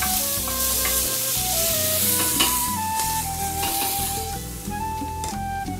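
Recadito sizzles loudly in a pan with refrying ingredients, a dense continuous frying hiss with stirring sounds throughout and no voices.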